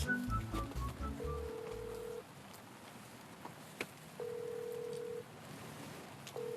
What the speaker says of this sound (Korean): 김태호 PD도 참 이렇게 바빠갖고 전화가 바로바로 연결이 잘 안 돼요.